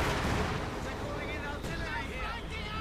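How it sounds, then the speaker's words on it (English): Artillery fires in the real-time strategy game Company of Heroes 2, heard as a dense, rumbling, continuous roar of booms and blast noise with a commentator talking over it. "Artillery fires."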